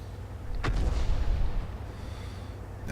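Artillery fire in World of Tanks erupts with one heavy boom followed by a rolling, rumbling decay that lingers as a low, dull roar for about a second before settling into a steady background drone.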